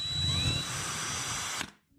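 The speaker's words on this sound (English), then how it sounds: "this mark right here is where we're going to drill the hole for the bracket" A power drill with a 7/32 bit bores a hole in a wall for a TV mount bracket, a brief steady high whine that stops abruptly, close and fairly quiet.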